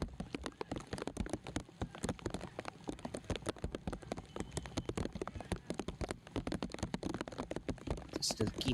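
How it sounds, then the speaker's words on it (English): Heavy rain pelts down at the Thrissur Corporation Stadium during a Kerala Premier League football match, a dense, steady patter of drops close to the microphone with a commentator talking over it. "It has started to rain heavily here on the Thrissur Corporation Stadium."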